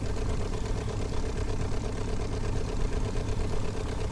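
A Piper J3 Cub's engine runs in a VR flight simulator, giving a continuous loud, rough drone with a steady rhythmic throb and no other sounds over it.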